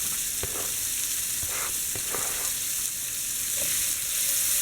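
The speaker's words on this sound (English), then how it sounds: "And now to the same pan, you're going to add the diced onion." Diced onion frying in a pan after steak was cooked in it, a steady close sizzle with a few soft clicks of stirring, no voices.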